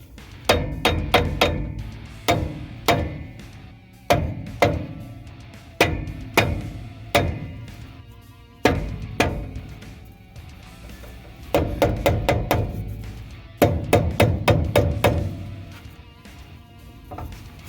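Hammer blows on the brake of a 1965 Ford Galaxie, sharp metallic strikes in clusters of two to five with brief gaps between, each hit ringing slightly, close and moderately loud, with no speech.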